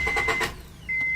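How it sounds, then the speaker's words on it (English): A 1994 Honda Accord engine cranking without catching, a quick rhythmic starter chug of several pulses, close and moderately loud, ending briefly before another whirring burst. "First, let me crank it."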